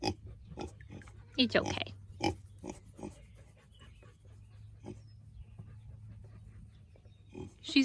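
Small pig giving short, scattered grunts and snorts close by, mixed with quiet human talk and soft household noise.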